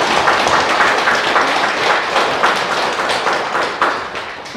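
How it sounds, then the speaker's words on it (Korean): Audience clapping at a Won Buddhist temple sermon, a dense, steady burst of many hands applauding for several seconds, fairly loud and close, tapering slightly at the end. "박수 한번 쳐주세요."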